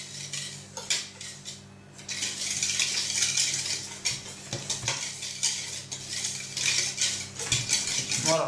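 A utensil stirs flour and sugar together in a bowl for cannelé batter, making continuous gritty scraping and light clinking against the bowl in uneven strokes.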